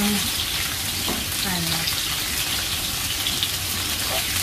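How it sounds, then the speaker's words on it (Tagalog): Carrots and potatoes frying for a beef curry, a steady broadband sizzle of oil that holds evenly throughout, close and moderately loud with no talk over it. "Prito ko muna tong mabilisan na luto lang ito"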